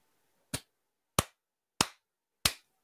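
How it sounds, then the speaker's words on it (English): Four slow, sparse claps of a sarcastic golf clap, evenly spaced about two-thirds of a second apart, each a sharp close slap that dies away quickly into silence. "Golf clap."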